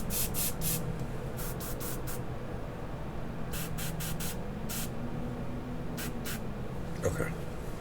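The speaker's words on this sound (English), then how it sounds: "I just want to clean up the airbrush in there for a minute" An airbrush sprays paint for clothing on a figure in short, sharp hissing bursts that repeat in clusters and come through close. A low voice talks softly underneath.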